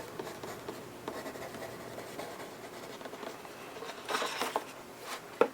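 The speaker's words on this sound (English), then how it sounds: "Let me write that down." A pen scratches across paper as notes are written by hand, a soft continuous scribble close by with a few sharper strokes near the end.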